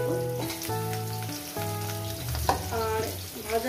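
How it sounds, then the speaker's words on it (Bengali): Potato pieces fry in hot oil, a soft continuous sizzle heard beneath prominent melodic background music. "প্রথমে আমি আলুটাকে ভেজে নেব, মিনিমাম 2-3 মিনিট ধরে আলুটাকে ভেজে নেব।"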